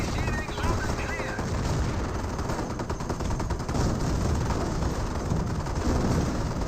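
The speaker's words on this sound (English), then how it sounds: "Hetzer still just trying to fire away against the Staghounds" Company of Heroes battle sounds: a Hetzer tank destroyer fires at Staghound armored cars while 37mm guns answer, giving dense, continuous bursts of loud gunfire and rattling shots throughout.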